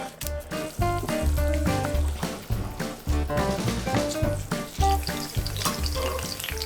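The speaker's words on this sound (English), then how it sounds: "Quite a lot of olive oil on a medium-low heat because we wanna infuse first the flavors into the oil. I'm also gonna go in with a lot of basil." A generous pour of olive oil on medium-low heat with a large handful of basil frying in it, a steady close sizzle running the whole time with rhythmic stirring pulses.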